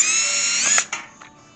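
A power drill spinning a left hand drill bit, a high, steady whine that winds down abruptly, followed by a couple of short mechanical clicks and faint clatter, close and loud.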